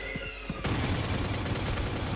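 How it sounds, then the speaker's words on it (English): A shot fired through a wall in the Valorant video game: quieter game sounds first, then a sudden loud blast that settles into a sustained dense roar of effects and crowd-like noise to the end. "What a wall bang!"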